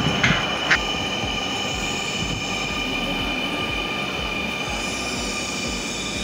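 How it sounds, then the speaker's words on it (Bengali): A Dhaka metro rail train rolls in and slows to a stop at the platform, its steady rumble and wheel hiss filling the space with a few sharp squeals early on, with no voices. "তারপরে দেখুন ট্রেনটি এলো, এখন যাত্রীরা নামবে, তারপরে আমরা উঠবো। ট্রেনটি প্ল্যাটফর্মে থামবে এখন।"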